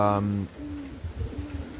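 Pigeons in a racing loft coo softly, a low repeated rolling coo following a brief harmonic call at the start, close by and moderate in volume.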